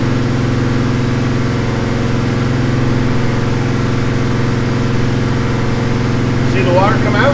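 A freshly built engine runs under load on a dyno during break-in, giving a steady, loud droning hum with strong low harmonics that holds even. A brief higher chirping sound rises near the end.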